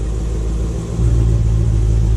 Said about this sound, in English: I'll rev it a little bit from here so you can kind of hear it.